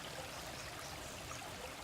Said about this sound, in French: On appelle ça une rivière, mais ce n'est évidemment pas une rivière comme on le conçoit en Europe.